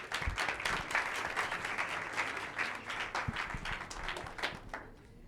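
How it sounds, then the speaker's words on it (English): Audience applause for the host at an evening event, dense sustained clapping from a crowd filling the room at steady volume before fading slightly at the end. "Please give her a round of applause."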